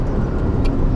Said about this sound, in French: c'est plutôt à basse vitesse qu'on profite de la sonorité du moteur